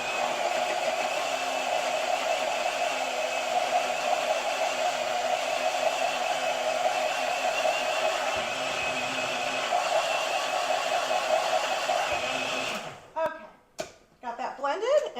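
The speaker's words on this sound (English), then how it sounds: "So I'm going to blend this real quick." A blender whirs steadily, blending cottage cheese, honey and eggs, running loud and continuous for about thirteen seconds before stopping with a few clunks and taps.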